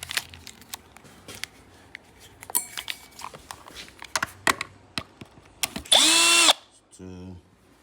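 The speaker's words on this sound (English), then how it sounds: "remove these screws to free up your motor wire" A cordless power drill backs screws out of a Segway GT2 electric scooter during rear tire work, with scattered clicks and clatter, then one loud half-second whir, then a brief lower buzz.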